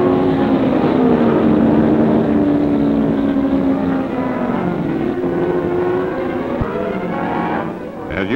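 Race cars from the 1949 Pikes Peak hill climb labor up the unpaved mountain course in a timed run, their loud, steady engine drone rising and falling without pause and with no talk over it.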